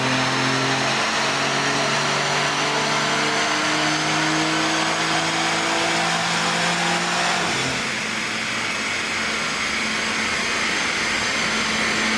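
A BMW M3 G80 tuned with a JB4 roars on a dyno, its engine note rising steadily in a long, loud pull before shifting into a harsher, rushing high-rpm wail.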